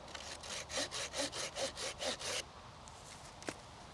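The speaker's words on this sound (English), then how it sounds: "you're kind of looking at sawing it about halfway" Hand saw cutting through a log in about nine steady rhythmic strokes, close and fairly loud, then stopping, followed by quiet with a faint knock.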